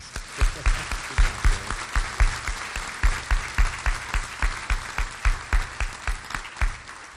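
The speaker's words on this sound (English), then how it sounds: "Let's give them another round of applause." Audience applause at a presidential inauguration ceremony, steady rhythmic clapping from a sizable crowd that holds at a fairly even level for the whole stretch.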